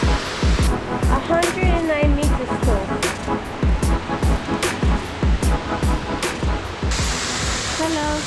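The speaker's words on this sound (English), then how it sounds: "Look at that waterfall!" A constant roaring rush of falling water from Ramboda Falls in Sri Lanka fills the background while people talk over it with loud, irregular bursts of speech.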